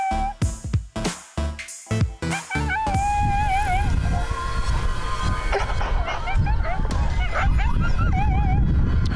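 Coyotes in Montana prairie country answer howl calls with a chorus of yips, wavering howls and whimpers, starting after a few sharp barks and continuing as a dense, loud pack chorus.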